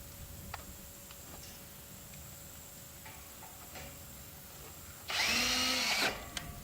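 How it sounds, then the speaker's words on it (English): A power drill drives screws into the end wall of a Zimmerman high tunnel, a loud steady whir lasting about a second near the end, after quiet taps and handling noises. "Let's go ahead and put the other two screws in."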